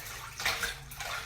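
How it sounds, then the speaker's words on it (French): Water splashing as a face is rinsed over a basin, a short soft burst of running and splashing water, close and alone with no talk. "on rince bien pour être certaine qu'il ne reste plus de résidus"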